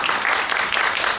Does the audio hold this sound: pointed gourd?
no